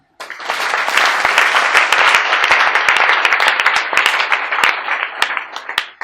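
A church congregation claps loudly and steadily during a French-language sermon, a dense crackle of many hands that holds for several seconds before thinning out at the end.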